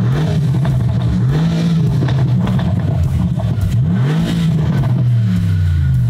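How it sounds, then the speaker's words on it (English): A 1000-horsepower turbocharged GT3 race car revving hard, engine pitch rising and falling in repeated sweeps, loud and close, with blow-off valves hissing between revs. "It's strange how much you can hear the blow-off valves."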